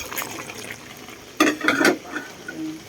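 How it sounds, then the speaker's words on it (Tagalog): White onions tipped into a pan and stirred, soft scraping and sizzling bursts in the middle of a quiet kitchen stretch, a few distinct stirring strokes close by. "lagay na rin natin itong maraming sibuyas"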